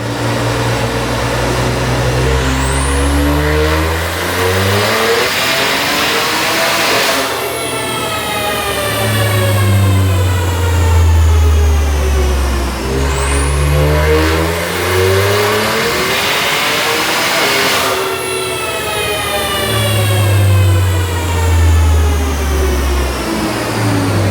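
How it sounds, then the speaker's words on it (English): BMW G80 M3 strapped to a dyno: the engine is revved hard twice in long sweeping pulls, each climbing in pitch to a high scream before dropping back, loud and close with no talking. "We're strapping it up to the dyno, so let's see what kind of power their car makes."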